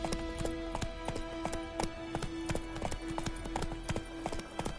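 Horse galloping in The Witcher 3, a rapid steady clip-clop of hooves in a quick rhythm over a sustained game music tone and ambient background, fairly quiet overall.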